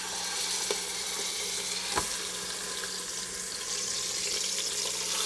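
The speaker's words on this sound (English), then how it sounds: "Okay, the oil is hot, so I'm going to sear my first shank." Beef shank searing in hot neutral oil in a pressure cooker, a continuous close hiss and sizzle with a couple of faint clicks, no voices.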